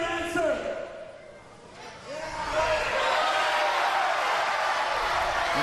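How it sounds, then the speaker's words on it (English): A wrestling event crowd swells into a sustained, loud roar of cheering after someone shouts into a microphone in the arena, and the noise holds steady to the end. "Well, the crowd sure wants the answer to be yes."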